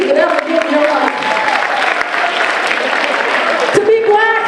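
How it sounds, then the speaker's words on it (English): An audience at a high school Black History program claps steadily in a sustained burst, with a voice speaking over the applause. "Clap for the best grades that you could ever get in your life."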